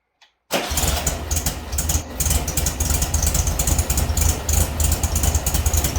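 A 1972 Volkswagen Super Beetle engine catches after a brief click and settles into a steady, loud idle with a rough, even throb.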